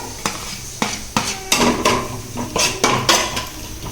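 A spatula scrapes and knocks against a pan as chopped tomatoes go into frying onions for a samosa filling, a series of sharp metallic clatters over a steady sizzle, close and loud.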